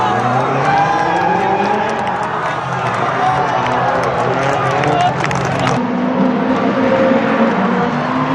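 Drift cars battling in a drift competition, engines roaring and tires screeching continuously while a crowd cheers, with a commentator talking over the loud, dense noise.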